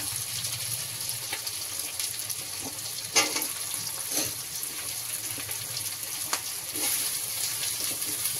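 Steady sizzling of potato and onion frying together in a pan, with a few soft clinks and scrapes of stirring scattered throughout.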